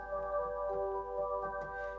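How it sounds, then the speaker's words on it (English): An organ sounding with two flute stops drawn together, holding steady sustained tones with soft, even swells, played alone and fairly close. "We have two flutes on there now."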